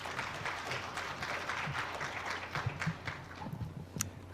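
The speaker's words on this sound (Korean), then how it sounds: "박수로 맞이하겠습니다" Indoor audience at a church media equipment seminar applauding to welcome a speaker, faint steady clapping from a moderate-sized crowd that continues throughout.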